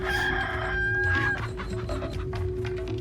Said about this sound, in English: How did that chicken get up there?